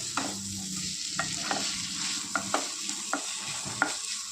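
Bitter gourd roast sizzles in a pan while a spoon stirs it, quiet steady frying hiss broken by repeated scraping knocks at irregular intervals.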